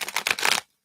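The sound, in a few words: shuffling tarot cards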